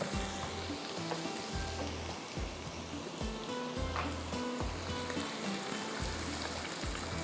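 Water poured into a frying onion-tomato masala with bottle gourd for achari daal, a busy continuous sizzle and bubbling close up, with a low recurring hum underneath and no voices.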